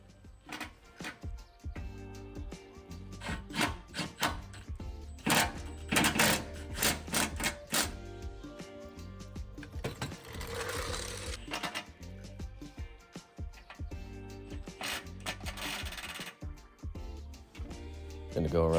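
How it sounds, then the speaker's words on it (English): Ratcheting clicks of a 17mm socket wrench tightening skid plate mounting bolts on a 3rd gen Toyota Tacoma, in quick irregular bursts with pauses and some clanks. "working our way forward with a 17mm socket, we're going to tighten up the middle 2 bolts"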